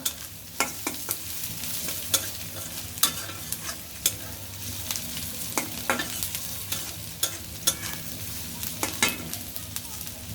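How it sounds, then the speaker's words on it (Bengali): Onions fry lightly in a pan, a soft, steady sizzle broken by regular spatula taps and scrapes every second or so, fairly quiet and close. "পেঁয়াজটা আমার হালকা ভাজা হয়ে গেছে"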